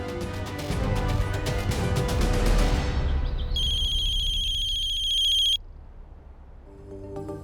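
A phone rings with a bright electronic ringtone, a sustained high tone that sounds for a couple of seconds and then cuts off, following a stretch of dramatic background music.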